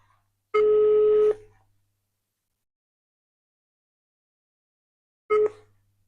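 A phone places a call, giving two short electronic tone bursts separated by several seconds of silence, clear and close with no talk over them.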